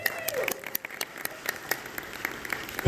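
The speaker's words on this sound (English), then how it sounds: "round of applause for this awesome person." Scattered applause from a convention audience at an anime Q&A panel, sparse individual claps rather than a full ovation, fairly close and uneven, with a burst of louder clapping at the very end.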